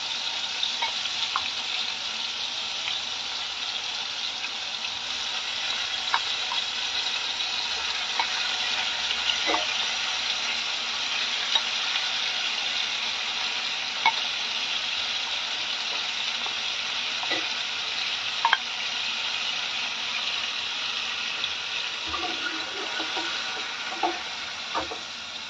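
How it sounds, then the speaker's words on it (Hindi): Food frying in a pan, stirred now and then until just soft, for a simple homemade recipe; a steady broad sizzle runs throughout with occasional soft scrapes and clicks of the spoon, close and fairly loud, with no talking. "इस तरह चलाते हुए बस हमें इसे थोड़ी देर ही हल्का सा सॉफ्ट होने तक ही फ्राई करना है।"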